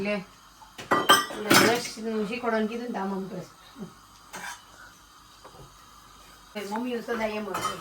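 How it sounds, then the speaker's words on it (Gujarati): Dishes, pots and steel utensils being washed and scrubbed in a home kitchen, with repeated clanks and scraping of metal, while people talk nearby and someone coughs. "વાસણ લૂસવાની જયદીભાઈ ની મહેનત ચાલુ છે"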